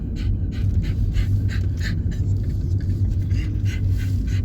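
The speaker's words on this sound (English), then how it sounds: "if you hear something that sounds like heavy breathing or panting, I did bring Blue Dog along on this trip" A dog named Blue Dog panting heavily close by, a fast, steady rhythm of breathy puffs over a constant low rumble, with no talk.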